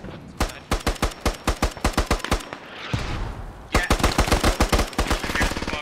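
Bursts of automatic machine gun fire in a military simulation video game, rapid sharp reports in two long strings with a brief hissing gap between, loud and close.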